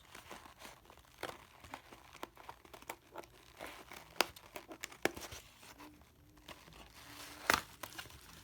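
Big scissors cut open a nail supply package box, giving faint, scattered snips, crinkles and cardboard tearing sounds with a few sharper clicks. All of it is close but quiet, with no voices.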